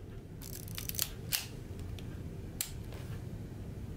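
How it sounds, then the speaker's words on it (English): Shutter of a worn Rollei 35 TE compact film camera firing close up: a few small, crisp mechanical clicks and snaps spaced through a quiet room, with no talk. "if I fire the shutter"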